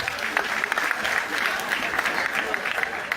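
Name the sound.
crowd clapping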